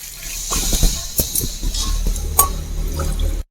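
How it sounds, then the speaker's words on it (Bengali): A bowl of boiled cow's milk pours into shukto, a Bengali vegetable dish, giving a splashing liquid gush with a few clinks of the bowl against the pot, close and fairly loud, with no voices. "আমি এখানে এক বাটি দুধ দিচ্ছি"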